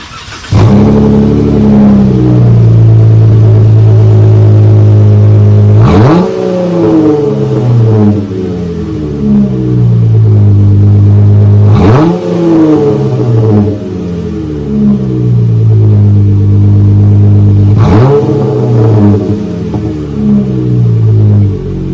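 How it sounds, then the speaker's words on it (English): Loud V8 exhaust of a 2016 Dodge Challenger with single chamber V-tube mufflers revving repeatedly, deep rumbling idle swelling into sharp throttle blips roughly every six seconds, close and alone. "replaced the mid mufflers or resonators with some single chamber V2 mufflers"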